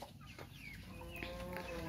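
Chickens kept in a poultry house during hot weather cluck and call faintly amid low barnyard background noise, several scattered short calls.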